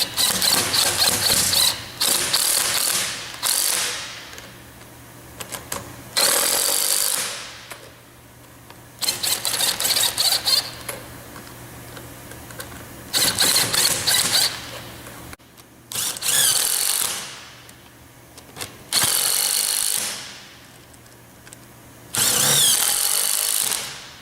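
Nuts being tightened on a CAI Plategrip belt fastener with a power tool, which runs in repeated loud bursts of a second or two, separated by short pauses, with no talking.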